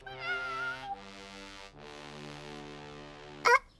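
A cat meows several times in drawn-out, tonal calls, close and clear, with a short sharp yelp near the end.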